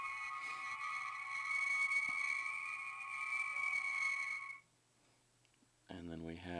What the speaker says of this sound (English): the transporter, which is kind of a long sound effect.